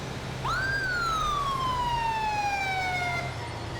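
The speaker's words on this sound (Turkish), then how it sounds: "Benim sirenler açık diye bana duruyor olabilirler." A police car siren in GTA 5 with the LSPDFR mod gives a single rising then long slowly falling wail, clear and fairly close over low traffic rumble, with no talking.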